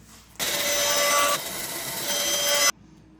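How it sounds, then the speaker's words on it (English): A handsaw cuts thin wooden shims for a river rock desk build, a steady, close rasping burst lasting about two seconds with a slight change in tone midway, alone with no talk. "I'm gonna cut a couple of shims."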